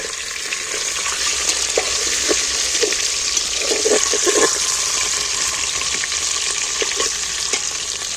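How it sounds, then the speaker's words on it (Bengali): Eggs and potatoes frying in a pan, a steady loud crackling sizzle with scattered pops and scrapes of stirring throughout. "ডিম আলু অনেকটাই ভাজা ভাজা অনেকটা কেন ভালোই ভাজা ভাজা হয়ে গেছে ডিমটাও ভাজা ভাজা হয়ে গেছে"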